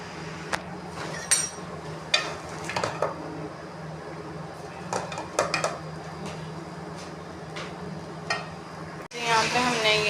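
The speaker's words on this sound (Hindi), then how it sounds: "यहाँ पे हमने ये अपने पतीले में प्याज डाल दिए हैं, इनको हम करेंगे ब्राउन।" Onions browning in a cooking pot: a steady low sizzle runs beneath repeated clinks and scrapes of a spoon against the pot, ending in a sudden louder burst of frying.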